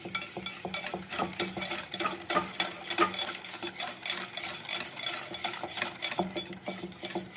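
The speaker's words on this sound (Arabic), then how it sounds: "وهنقلبها حلو كده" A spoon stirring baking powder into cake batter in a bowl, a busy run of quick clinks and scrapes against the bowl that continues nonstop, close and moderately loud.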